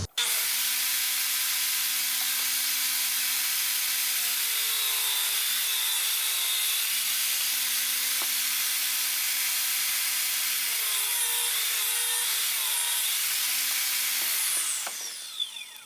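A power saw rip-cuts an oiled wood board for shelves with a loud continuous whine whose pitch dips slightly under load, then stops near the end with a few small knocks.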